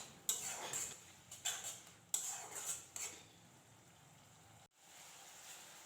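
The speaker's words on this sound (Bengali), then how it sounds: "এবার মশলাটা নাড়াচাড়া করে মিশিয়ে দেব, দিয়ে ভালো করে কষিয়ে নেব।" Spoon scraping and clinking in a pan while masala with turmeric is stirred and fried for egg biryani, several sharp taps and scrapes in irregular bursts, fairly faint and close, with no talk.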